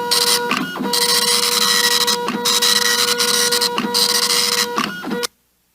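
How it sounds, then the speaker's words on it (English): Dot matrix printer printing in loud, buzzing bursts with a high whine, pausing briefly between lines as the head returns, repeating four or five times before cutting off abruptly. "those dot matrix printers sounded like the world's most annoying bug zapper"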